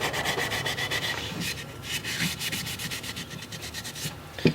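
A brush or pad is scrubbed repeatedly across an old wooden tongue plane, more than 190 years old, with its handle brightening. The rubbing comes in steady back-and-forth strokes, close and moderately loud, with no talking.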